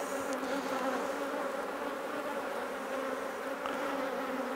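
Honey bees buzz steadily across frames of an opened hive during a beekeeping inspection, a dense continuous hum held at an even, fairly loud level with no talk.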